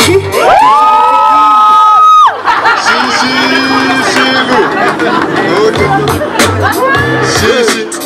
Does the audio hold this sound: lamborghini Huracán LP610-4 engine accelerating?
no